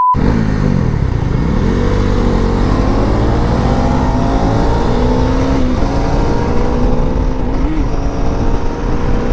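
A motorcycle rides at high speed on a hill road out of Kodaikanal, its engine droning loudly and steadily under heavy wind rush, with pitch swells as the revs change.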